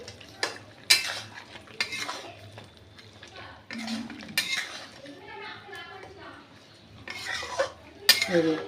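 A spoon stirs tomato chicken in a pot over a medium-low flame. Sharp metallic clinks and scrapes come at intervals over a soft background sizzle, with a faint voice in places.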